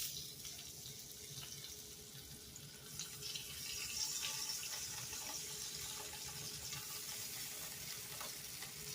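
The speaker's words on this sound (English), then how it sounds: "our skillet is hot. So I'm going to put my potatoes in here." Potatoes sizzle in a hot skillet, a faint steady crackling hiss that swells slightly midway, with no voices over it.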